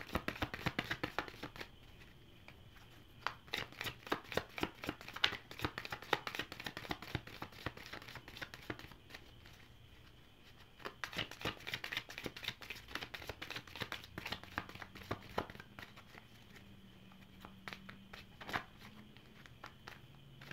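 Tarot cards handled and shuffled at close range in quiet surroundings, with repeated bursts of crisp riffling and flicking, separated by brief pauses. Nobody speaks.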